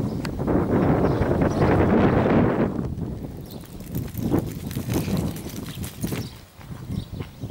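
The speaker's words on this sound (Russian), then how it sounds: "ветер сильный и несет" Strong wind blowing outdoors in Nizhneudinsk amid smoke from distant taiga fires, a loud broadband roar with gusts that swells heavily for the first few seconds and then eases into a lower, uneven buffeting.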